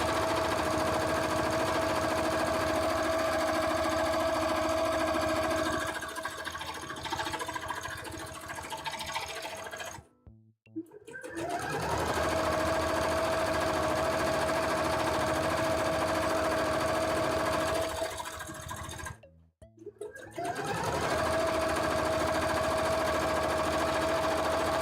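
A sewing machine stitches fabric for trousers in a fast, steady whirring hum that runs for long stretches and stops briefly twice before starting again.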